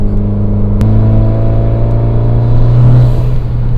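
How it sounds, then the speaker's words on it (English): A 400 bhp Mitsubishi Evo X with a snow camo wrap drones steadily at close range from inside the cabin, its engine note holding a constant pitch with a slight rise near the end; no distinct blow-off valve chirp stands out. "I really hope this mic is picking up the blow-off valve, because it's just, it sounds so good."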